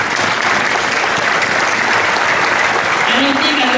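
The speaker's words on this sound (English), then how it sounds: "we give them a big applause?" A commencement audience applauds graduates with loud, sustained clapping from many hands, a dense even roar lasting throughout without a break.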